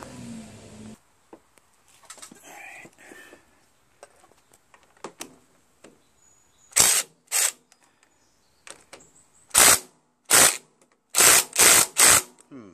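Several sharp mechanical bursts from a power driver or ratchet loosening starter bolts on a John Deere STX30 riding lawn tractor with a Kohler 12 HP Command engine, coming in short separate bursts and then a quick run of three, close and loud, with no talk.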